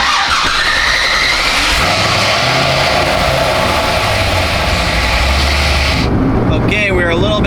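A lowered Corvette drives around the block, its engine droning loud and close with steady road and wind roar that cuts off near the end, leaving quieter cabin sounds.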